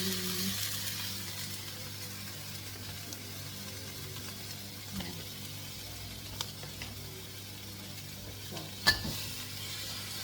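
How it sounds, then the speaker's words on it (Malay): A soft, steady sizzle of rendang paste frying in a wok with clams, with occasional light stirring scrapes and a faint clink, fairly quiet throughout. "Curah saja ke dalam kuali yang ada kerang tadi."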